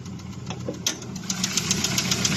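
A Rover 45 car engine idling under an open bonnet, a steady close mechanical tick and rattle with a low running hum throughout.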